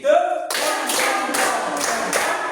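A group claps hands during a classroom project session, a brief spoken note opening the clip before several seconds of dense, steady, close clapping with small surges.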